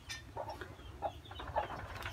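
A startled hen settled in her nest lets out a few soft, spaced clucks, quiet and close, with no talking.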